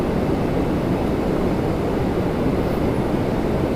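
Steady, broadband jet roar from an Embraer 175 at Toronto Pearson fills the whole stretch, loud and unbroken, with no voices over it.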